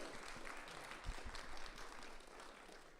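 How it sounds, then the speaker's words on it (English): Faint, distant audience applause at an academic symposium, a soft steady patter of clapping from a small crowd lasting a few seconds. "Let's give them all a big round of applause for being here with us."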